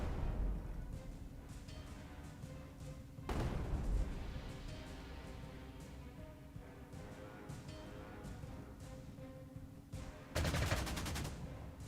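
A Stuka dive bomber attack plays out in the Panzer Corps 2 wargame, with a low, steady droning rumble broken by two sharp bursts of gunfire or explosions, one early and one near the end.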